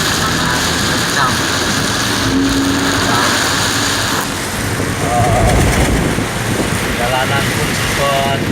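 Heavy rain driven by strong wind around Serpong pours down in a dense, continuous roar, loud and unbroken, with gusty rumble and passing traffic hiss mixed in.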